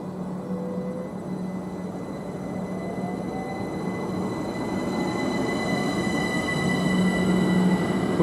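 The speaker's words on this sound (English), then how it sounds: "We're also due to have a Bristol to London Paddington, Bristol Temple Meads that is, to London Paddington bound IET, which is approaching" A Bristol Temple Meads to London Paddington IET train approaching through Goring & Streatley on the Great Western Main Line, a steady rumble that grows louder, with a long, sustained high wheel whine and a low hum.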